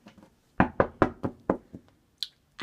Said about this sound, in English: I'm knocking on my sister's door.